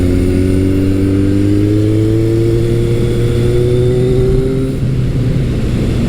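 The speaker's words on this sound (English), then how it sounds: "So I just put the bike in fourth gear now. I'm going down through, and if I get on it, the acceleration is shocking" Kawasaki motorcycle in fourth gear, a KZ1000 or ZRX1200R, accelerating hard: a loud, close engine note rising steadily in pitch for about five seconds, then dropping off as the throttle eases.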